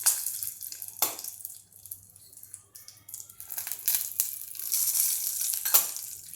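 Asafoetida, curry leaves and cashews hitting hot oil in a pan, bursts of crackling sizzle that flare and fade, with a loud spitting surge near the start and end and no talking.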